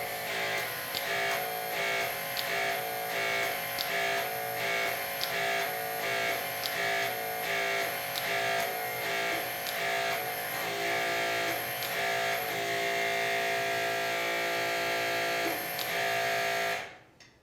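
HYTORC MXT+ hydraulic torque wrench working a fastener, a steady mechanical buzz with regular rhythmic pulses repeating about every second, close and alone before stopping abruptly at the end.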